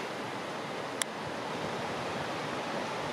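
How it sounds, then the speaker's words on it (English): A stream flows steadily, rushing water filling the whole stretch, a continuous broadband wash nearby on a backpacking trail, with one brief click near the start. "Nice flowing water."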